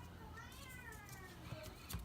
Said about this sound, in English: I'm sure you can hear my daughter in the background having a flip out